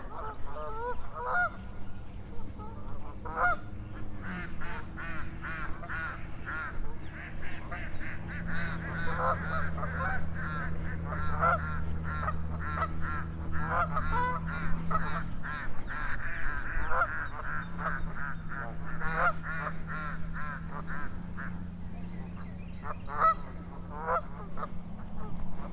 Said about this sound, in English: Got some ducks over here.